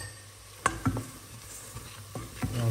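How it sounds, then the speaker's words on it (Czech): Flour roux browning in a pan with beef steaks, a low steady sizzle broken by a few sharp clinks and scrapes of a utensil stirring against the pan. "Trošku to orestuju, aby to mělo barvu"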